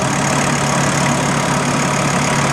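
A Volkswagen T4 van with the AAB diesel engine idles steadily at a constant low hum, loud and close, a continuous even rumble with no talk.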